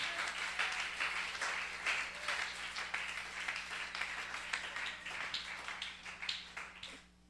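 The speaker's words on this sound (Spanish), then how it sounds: "Aplauda al Señor" A church congregation applauds during a missionary worship service, a moderately loud burst of uneven clapping from many hands that rises and falls over several seconds before fading.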